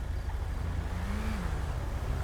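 A car in a video game drives past during a detective-mode session, heard as a steady engine drone with a brief rising-then-falling engine note as it goes by, moderately loud and with no talk over it.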